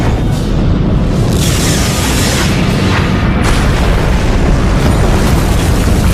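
Loud, sustained sci-fi movie explosion effect, a deep rumbling boom with a roaring, continuous low-end wash that fills the whole stretch, no speech over it.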